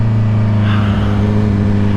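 A 2021 Honda CBR650R's engine hums steadily and loud through a slow U-turn, a sustained low drone with a slight rise in revs partway through.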